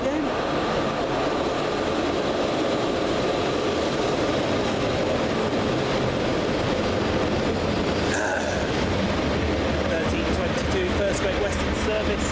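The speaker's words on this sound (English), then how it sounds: "Train around the bend." A train rolls around the bend at Teignmouth with a continuous loud rumble and rail noise, wheels clattering and a brief squeal partway through, while a voice talks over it.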